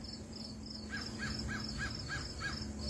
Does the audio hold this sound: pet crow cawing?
yes